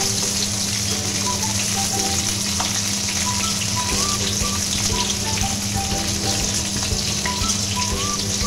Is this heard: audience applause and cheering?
no